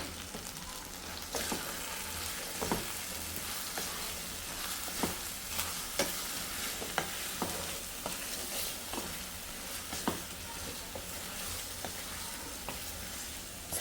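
Grated coconut and masala fry in a pan for chicken curry with a steady soft sizzle, punctuated by repeated scrapes and clicks of a spoon stirring, close and fairly quiet.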